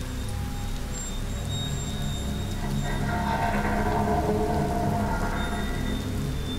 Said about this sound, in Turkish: Ananı ya, yağmur başladı.